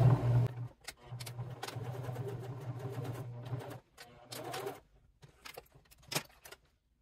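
A sewing machine runs in bursts, stitching a pocket line on a handmade wallet, with steady mechanical whirring broken by short pauses and quieter stop-start passages near the end.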